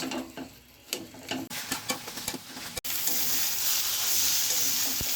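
Taro greens cooked with a hilsa fish head being stirred in a pan to dry them out, a sharp scrape and rhythmic clinks of the spatula over a steady sizzle that swells into loud, continuous frying hiss.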